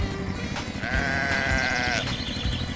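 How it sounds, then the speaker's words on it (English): A sheep gives a single loud, drawn-out bleat close by, with no voices around it. "Sheep."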